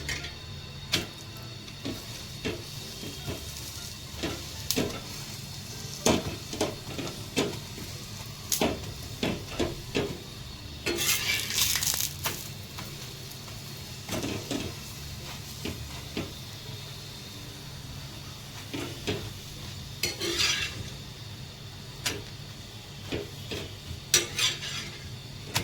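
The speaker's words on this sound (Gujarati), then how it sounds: "એટલે તેલ લગાવવાનું અને પછી એને ઉલટાઈ દેવાનું." Pumpkin thepla cooking in oil on a griddle and being flipped, with soft faint sizzling, scattered spatula clicks and scrapes, and a few brief louder hisses of oil.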